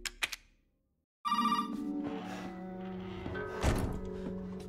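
Old telephone bell ringing in the horror game Resident Evil 7, a loud close rattling ring that starts suddenly after a brief thud and silence and continues steadily, with a low hum under it.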